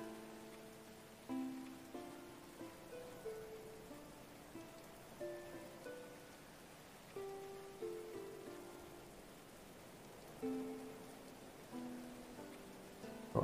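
Steady rain patters across a medieval colony-building game world, a soft continuous hiss with gentle rising swells, while faint tonal game music plays beneath and no one talks.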